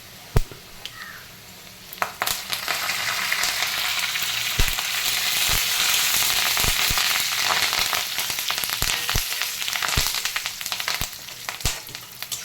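Onion and curry leaves fry in a pan with a loud, continuous sizzle, punctuated by sharp pops and spatters and the occasional stir.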